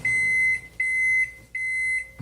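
A microwave oven finishing after two minutes on high power gives three loud, evenly spaced electronic beeps, each held for about half a second with short gaps between.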